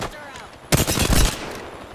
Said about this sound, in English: I'm throwing a fuck ton of nades on them